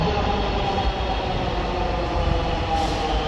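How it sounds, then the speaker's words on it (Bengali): A metro rail train pulls into a station, its steady loud rumble and rolling hum filling the platform without pause, with faint higher whine above the low roar. "মুহূর্তে আবার একটি ট্রেন এসে হাজির"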